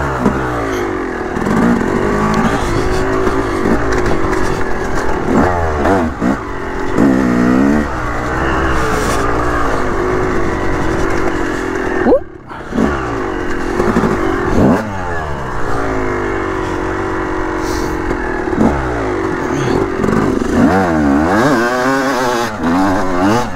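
A dirt bike engine on a mountain trail in the North Carolina mountains, revving hard and continuously up and down through the gears, loud and near, with one brief drop around the middle before it roars again.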